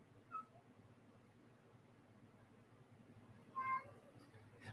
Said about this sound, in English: Cat, what are you yowling about?